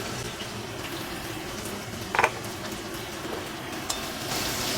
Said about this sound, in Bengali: এবারে প্রথমে আমি আলুগুলো ভেজে নেব